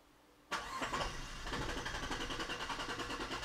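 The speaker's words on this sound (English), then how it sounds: "I can just tell the computer to crank the engine over." A car engine is cranked over and started by command from a Launch X431 Pro Elite diagnostic scanner rather than the key, with a sudden loud onset followed by a steady, rhythmic running drone in the garage.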